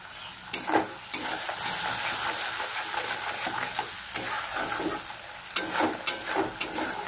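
Fish frying in a pan with a pinch of salt, stirred and tossed as it cooks for a curry: steady close sizzle with repeated scraping stirs and a few sharper clatters, no talking.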